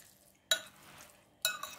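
A spoon stirs kefta meatball mixture with olive oil in a pan, giving two quick scraping strokes with soft, wet shuffling between them, close and fairly quiet.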